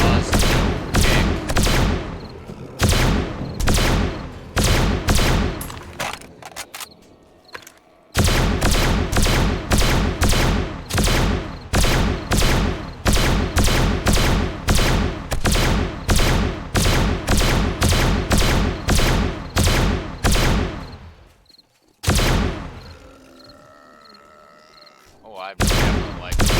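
Laser weapons fire in the video game 7 Days to Die with the Darkness Falls mod: loud, rapid sharp bursts in long continuous strings, broken by a short gap near the middle and a longer lull near the end.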